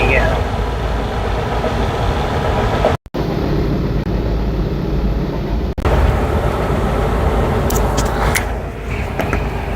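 A train rolls past a semi truck on a highway from Tennessee toward Arkansas, heard from inside the cab as a loud, steady, continuous rumble that runs the whole time, with one brief dropout.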